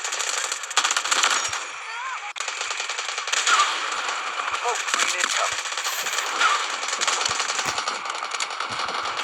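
Rapid bursts of automatic gunfire in the mobile shooter game Delta Force Mobile, dense crackling volleys that continue almost unbroken over about nine seconds, with a voice faintly under the shots.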